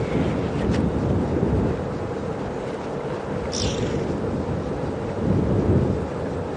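Strong wind roaring across an open safari vehicle on a game drive at Djuma Game Reserve, a continuous loud broadband buffeting that swells and gusts throughout, with no voices over it.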